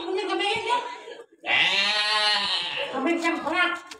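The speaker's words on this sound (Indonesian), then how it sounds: "Lihat punya kambing ya?" A goat bleats loudly and close by in a long wavering cry, amid lively chatter and voices at a Balinese temple gathering.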